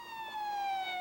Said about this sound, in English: Ambulances arriving one after the other with injured students from the Pulaski crash